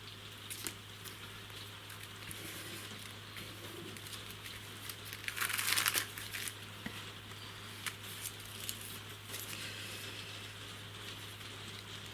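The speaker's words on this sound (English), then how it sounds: "The other thing I enjoy listening to is actually the rain as it's coming down today." Steady rain falling outside, a soft continuous patter heard from indoors under a low hum, with an occasional bird call in the distance.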